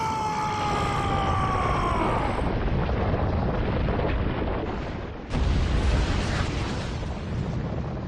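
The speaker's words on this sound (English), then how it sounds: "And there goes the Great Wyzen, going out in a beautiful explosion that probably shakes the world 10 times over." A huge explosion in the game Asura's Wrath roars as a continuous loud rushing blast, a falling tonal whine fading into dense noise, then a second sharp surge of blast noise.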